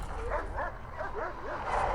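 Guard dogs in the Prison Architect prison-management game bark and yip in a quick run of several short calls, fairly close, over a low rumbling background.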